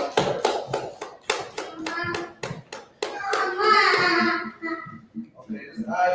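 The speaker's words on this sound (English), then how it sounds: "Clap it up to the young man." A room of people at a class claps for a young man in a series of sharp, separate hand claps that gradually grow denser and blend into a brief burst of applause, with voices and a child's cry mixed in near the end.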